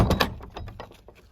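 A wooden village gate with a latch clatters as it is worked, a quick run of sharp knocks and rattles that fade out over about a second, with no voices.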